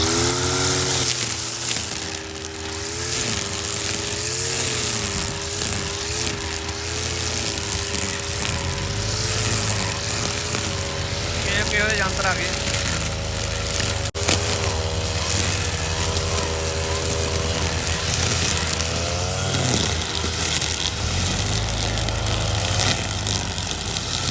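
A grass cutting machine with a plastic cutting line running outdoors on farmland, a steady droning motor whose pitch wavers as it works, loud and close throughout with no talk heard.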